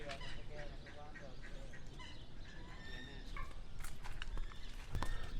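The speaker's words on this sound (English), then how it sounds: "Those white ducks are so pretty." White ducks at a pond make faint honking and quacking calls scattered through a soft outdoor bed, with occasional distant voices.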